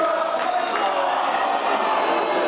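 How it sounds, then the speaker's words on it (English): A crowd at a wrestling match cheers and roars continuously, a dense, steady wall of voices heard from within the arena. "Crowd in raptures here."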